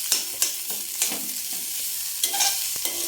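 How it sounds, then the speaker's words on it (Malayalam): Bitter gourd coated in chili powder dry-fries in a pan with a steady bright sizzle, broken by intermittent scraping stirs and a few sharper taps of the utensil against the pan. "ഇനി ഇതിൽ കിടന്നൊന്ന് ഒന്നുകൂടെ ഡ്രൈ ആയിട്ട് ഒന്ന് പൊരിഞ്ഞ് വരട്ടെ"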